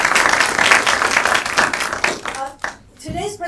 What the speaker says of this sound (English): let's give you an initial round of applause